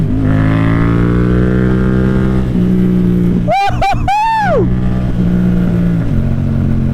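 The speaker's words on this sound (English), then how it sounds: "that downshift going crazy" A Yamaha MT-07 motorcycle downshifts with a sharp burst of rising and falling revs that blips twice over a steady loud engine drone, heard up close while riding with wind noise.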